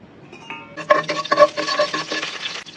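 Onions dropped into hot oil in a pan for fish curry, with a soft sizzle under clinking and scraping of a spoon or spatula against the pan, close and rhythmic, no talking.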